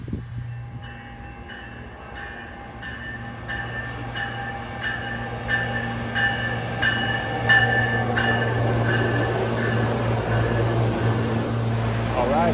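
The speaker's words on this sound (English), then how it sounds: "Train has arrived." An RTD commuter rail A line train pulls into a Denver station, a steady loud rumble with sustained tonal hum that grows fuller and noisier as the train arrives.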